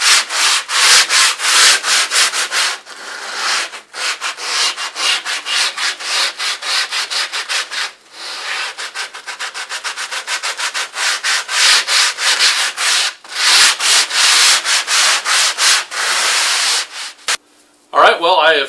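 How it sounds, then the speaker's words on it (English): Steady rhythmic sanding of cork model train roadbed, rapid back-and-forth scraping strokes, loud and close, with a few brief pauses between bursts. "I have finished sanding all of the roadbed now"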